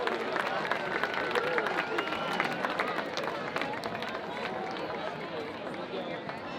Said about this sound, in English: How about another round of applause for the Norwalk Warrior Marching Band?